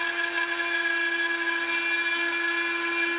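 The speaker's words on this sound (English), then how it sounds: "you can also use any Dremel rotary tool that works with all attachments" A high-pitched Dremel rotary tool whines steadily at constant speed cutting wood held in a vise, close and continuous, with a gritty cutting hiss.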